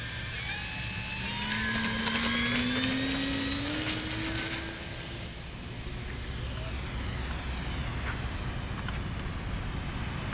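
A radio-controlled Dynam F6F Hellcat model plane on a 5-cell battery whines past overhead, its motor pitch sliding upward and then fading, over a steady wash of outdoor background noise.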